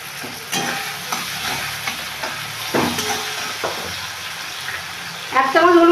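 Spices and asafoetida fry in a pan for chicken keema ghugni, a soft continuous sizzle broken by occasional stirring scrapes, with a voice briefly speaking near the end.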